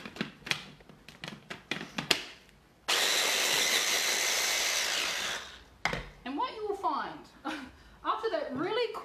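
Blender blending a frozen dairy-free, sugar-free ice cream mixture, a loud steady whir lasting about three seconds, framed by clattering taps and handling before and a person talking after.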